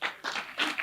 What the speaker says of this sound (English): May I, a round of applause again,